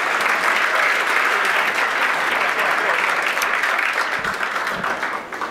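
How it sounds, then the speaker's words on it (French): A large crowd at an insurance awards ceremony applauds loudly and steadily, the clapping holding strong before tapering slightly toward the end. "Nous pouvons les applaudir"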